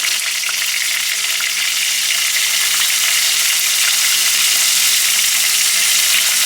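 Onion paste hits hot oil already holding whole cumin seeds and bay leaves for a village-style egg korma, raising a loud, steady, hissing sizzle that holds evenly throughout with no voices.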